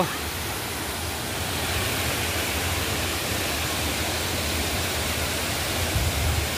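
Situbo Falls waterfall in Tampilisan, Zamboanga del Norte, roaring as a steady, dense, broadband rush of falling water, unbroken and close throughout.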